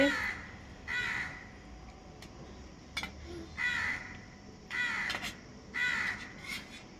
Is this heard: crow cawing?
yes